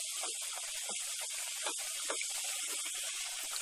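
Pastel pastries made from flour, salt and cream sizzling as they fry in hot oil, a steady dense crackling hiss with popping bubbles, close and continuous without speech.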